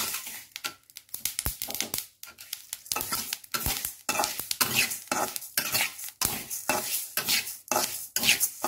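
Ingredients dry-roasting in a pan, stirred vigorously with a utensil that scrapes and clatters in a rapid, irregular rhythm over a faint crackle, close and with no voices.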